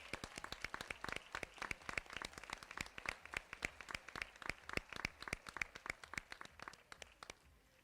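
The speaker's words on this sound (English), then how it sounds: "give a congratulatory, another round of applause to our graduating class" An audience claps for a graduating Master of Science in Occupational Therapy class at a 2016 pinning ceremony, with steady, fairly sparse applause of distinct hand claps heard from some distance and fading slightly at the end.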